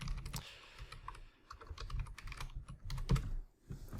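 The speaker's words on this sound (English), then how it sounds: "Typing and thinking at the same time." Typing on a computer keyboard, with quick irregular bursts of close key clicks separated by short pauses.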